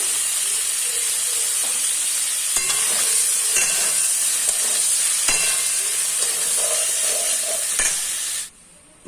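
Small pieces fry in hot oil with a steady, close hiss and sizzle, punctuated by occasional clinks and stirring scrapes, before it cuts off abruptly at the end.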